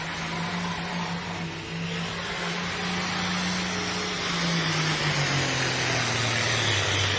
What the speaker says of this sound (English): trying to get that tractor to settle down